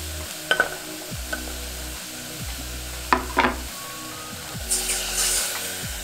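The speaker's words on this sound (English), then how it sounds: "Deglaze with soy sauce and add in the dates and dashi." A hot pan deglazed with soy sauce before dates and dashi are added for a vegan okonomiyaki sauce: a sharp burst of sizzling and hissing, stirring scrapes and clanks, the bubbling rising near the end, close and loud.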